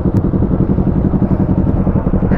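A 2021 Yamaha Sniper 155 motorcycle engine runs in a loud, close, steady rumble with an even pulsing beat throughout.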